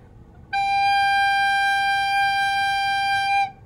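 A recorder sounds a single sustained G, blown with slow, warm air, holding one steady bright tone for about three seconds, clear and close with no talking.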